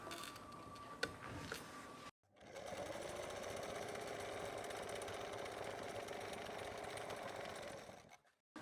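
A sewing machine stitches an umbrella-cut sleeve, starting after a brief quiet pause and running in one steady, even whir for about six seconds before stopping.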